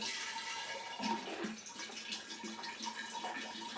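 Everclear grain alcohol, 189 proof, poured into a mixing jar, about 1.5 liters, a steady gushing liquid pour that continues through the clip with no talk.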